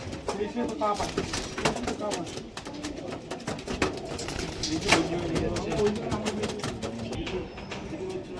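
Female tippler pigeons, a full-headed (phulshira) bird among them, coo in low repeated murmurs at close range while someone talks over them and other birds call faintly in the background.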